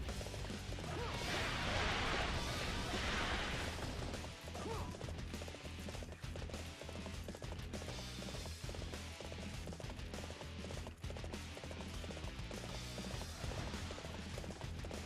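Galloping horse hoofbeats in Dynasty Warriors 7, a steady clip-clop rhythm running under loud, dense battle music and combat noise throughout.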